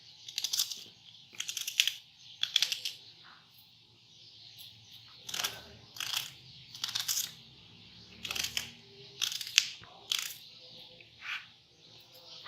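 Fine onion is chopped on a board for kofta biryani, with short bursts of crisp knife cuts in irregular clusters, close and moderately loud, separated by brief pauses.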